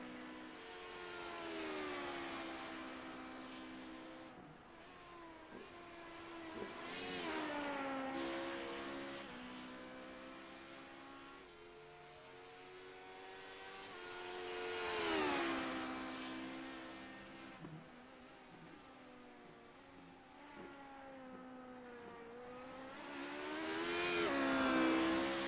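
Sports cars racing in a sim-racing league round at Canadian Tire circuit, engines rising and falling through gear changes, several cars passing close with swelling revs over steady background engine drone.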